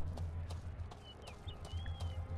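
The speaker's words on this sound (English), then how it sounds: "Oh, a horse." Horse hooves in the fantasy game Two Worlds, a soft rhythmic clip-clop of steady hoofbeats running under low ambient rumble, with faint high tonal effects drifting over it.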